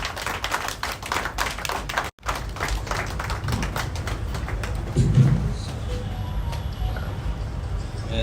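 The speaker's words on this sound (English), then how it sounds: "With a round of applause, shall we welcome Colonel Victor Opera." Applause from the crowd at a Pan-African memorial gathering for Comrade Dr. Kojo Ablode, welcoming Colonel Victor Opera to speak, a dense steady patter of many hands clapping that holds for several seconds with one brief break.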